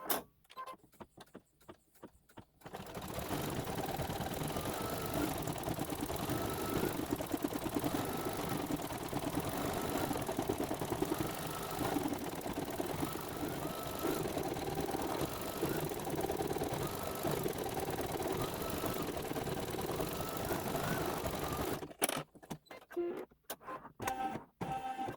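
Embroidery sewing machine running satin stitches in silver thread, a continuous fast mechanical whirring and needle chatter for about twenty seconds, starting and stopping abruptly with quieter handling noises at each end.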